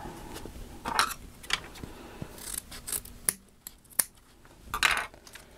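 Scissors snipping the tails of ribbon for a big bow, a few quiet, close crisp cuts scattered across a few seconds with light rubbing and handling of the ribbon between them.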